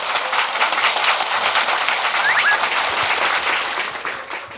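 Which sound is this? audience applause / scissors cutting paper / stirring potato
audience applause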